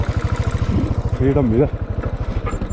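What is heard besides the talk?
motorcycle engine during a bike ride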